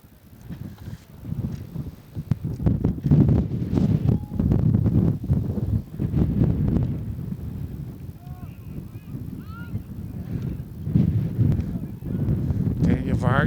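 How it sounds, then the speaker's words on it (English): Gusty wind buffets an outdoor microphone at a boys varsity high school soccer game, producing repeated low rumbling bursts and thumps, with faint honk-like tones in the background; rustling papers are not clearly distinguishable. "I don't know if you can hear my papers rustling in the microphone, but see how windy it is"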